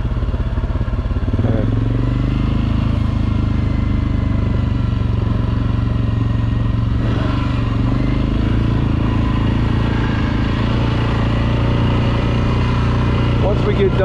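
An ATV engine runs continuously while riding an off-road trail with small hills in Kalkaska, Michigan, a close steady drone with pitch shifts and rattling clatter, and a voice talking over it at times.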